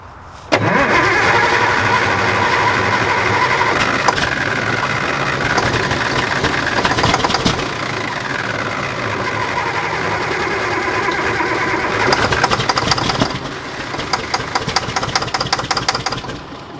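An old, rotting Mack truck diesel engine cranks and catches, then runs loud and close with a rough, uneven rattle and some rev changes, and no talking.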